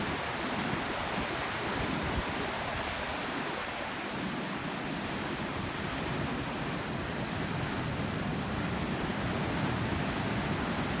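Ocean surf at Laguna Beach rolls in as a continuous broad wash of noise, steady and enveloping with no distinct breaks and no voices.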